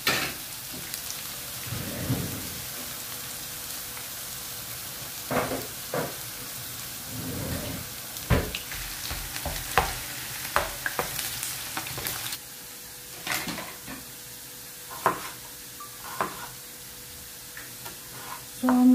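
Potatoes frying in a pan, a continuous crackling sizzle with intermittent louder pops and scraping knocks spread across the clip, close by, with no voices.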